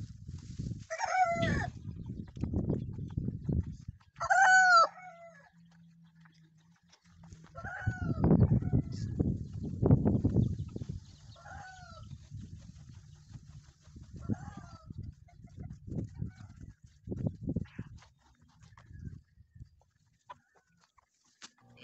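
Backyard hens from a flock of eight cluck and murmur close by while a rooster crows several times, long rising calls standing out over rustling and scattered clucks.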